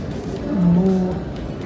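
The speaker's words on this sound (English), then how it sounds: "Hey look, I think that's a cow." A single low cow moo, loud and fairly close, rising and falling over about a second with no talking.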